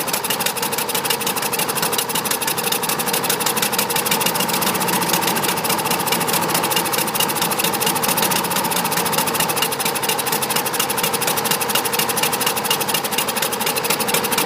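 A 2011 John Deere JS28 lawn mower engine runs with the choke closed and no air filter, giving a steady, close, rough chatter that holds unchanged throughout.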